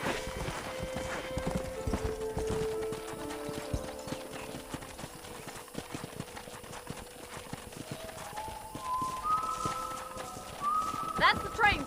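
Horse hooves clip-clop in a steady rhythm in the video game Red Dead Redemption, under ongoing conversation, with tonal music-like sounds rising near the end.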